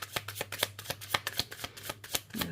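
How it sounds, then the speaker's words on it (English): Tarot cards shuffled by hand close up, a quick series of crisp riffling snaps and soft slaps in an uneven rhythm, with a low steady hum underneath. "these cards have me shuffling for a good minute here"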